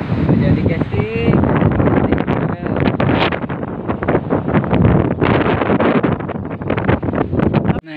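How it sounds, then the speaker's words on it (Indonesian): Strong gusts of wind buffet the microphone outdoors while fishing in the late afternoon, a loud, roaring, constantly shifting rush with brief talk mixed in. "Di sana tuh anginnya."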